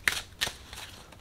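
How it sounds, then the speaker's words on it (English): Oracle cards are shuffled by hand, giving two quick crisp riffles and then a softer third flutter, close and clear. "So we're going to shuffle."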